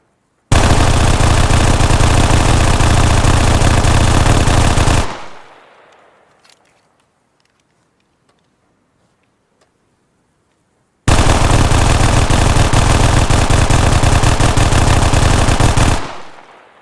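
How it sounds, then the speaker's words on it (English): Two long bursts of rapid automatic submachine gun fire in the video game Arma Reforger, loud and continuous, separated by several seconds of near silence with faint clicks. "the SMG does have two sound effects, one suppressor and one without suppressor on it"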